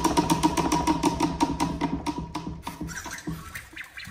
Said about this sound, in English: Here's my turn to spin the wheel.